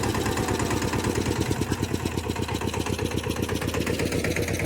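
A tractor engine runs at a steady, close, loud chug, with a rapid low-pitched rhythmic pulsing that stays constant throughout, and no talk over it.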